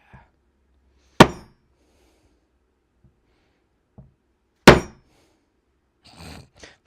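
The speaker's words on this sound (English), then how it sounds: "I can still use the mini one here to get the rivet holes punched." A hammer strikes a punch to make rivet holes in a Japanese fabric bag, two sharp, loud isolated blows a few seconds apart with faint taps and brief rustling between them.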